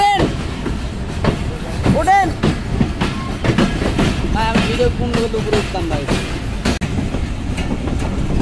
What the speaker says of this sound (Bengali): আন্তনগর বাংলাবান্ধা এক্সপ্রেস দুপুর 3টা বাজে ছেড়ে গেল সান্তাহার রেলওয়ে জংশন স্টেশন।